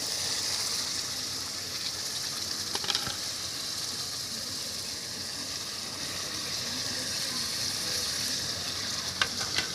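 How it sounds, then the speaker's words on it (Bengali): Fried potatoes and bori are stirred into a spice paste in a hot pan, giving a steady, close sizzle with scraping stirring noises throughout and no talking. "এখন খুব ভালোভাবে মশলার সঙ্গে নেড়ে চেড়ে মিক্স করে নিচ্ছি।"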